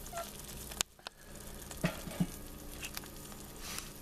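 Small quail egg frying in a pan, a quiet steady sizzle broken by a few sharp clicks and pops, close and faint.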